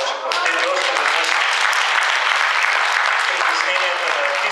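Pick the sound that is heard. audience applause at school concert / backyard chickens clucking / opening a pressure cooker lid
audience applause at school concert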